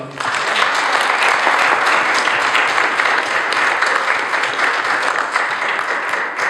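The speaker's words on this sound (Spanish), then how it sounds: "Den un aplauso al Señor." A church congregation applauds steadily and loudly, a dense, even wash of many hands clapping for the full stretch with no voices on top.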